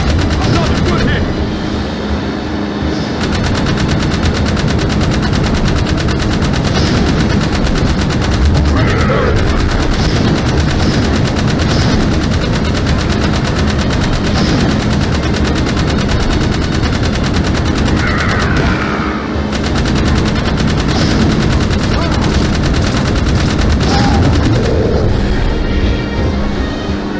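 Rapid bursts of gunfire from the PS2 game Jak 3, dense and continuous over a steady wash of game noise and music, with short pauses, while a voice calls out over the shooting.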